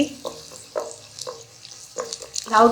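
Onions frying in a pan for Qaboli rice over a raised flame: soft sizzling with intermittent stirring scrapes, close and fairly quiet, with a brief louder clatter at the end.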